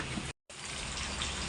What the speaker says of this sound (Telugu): ముందుగంటే ఆయిల్ పోసేద్దాం ఫ్రెండ్స్.